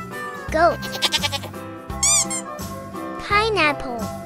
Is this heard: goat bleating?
yes